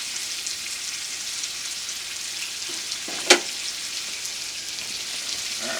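Bacon fries in a pan with a continuous soft, hissy sizzle and crackle, steady and close, broken by one brief sharper clink partway through.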